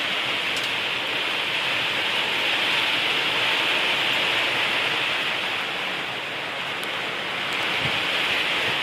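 Rain falling outdoors on farmland, a dense, even hiss that holds steady throughout, close and unbroken, with no one speaking.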